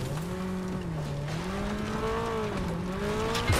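Car engine in Fortnite droning steadily with a wavering pitch as the vehicle drives, fairly loud and continuous, without speech.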